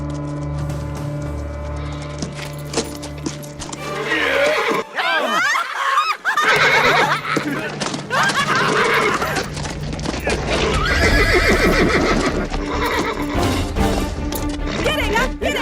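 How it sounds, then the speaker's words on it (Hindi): A horse in a dramatic film scene neighs and whinnies loudly while hooves clatter in a fast gallop, with shouting voices, crashes and music mixed in, building into a chaotic, busy burst of action. "अरे ये घोड़ा पागल है क्या?"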